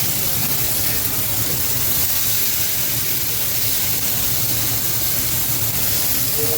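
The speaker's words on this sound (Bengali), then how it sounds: "এই লঙ্কা পেস্টটাকে ভালো করে তেলের সাথে কুক করতে হবে" Chili paste frying in hot oil in a pan, a steady broadband sizzle and hiss that holds evenly throughout without pauses.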